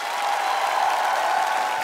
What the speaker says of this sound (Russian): вам аплодисменты за отвагу